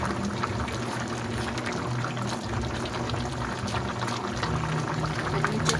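A steady, even pouring of coconut milk into a pot, a continuous soft splashing and trickle with no voices.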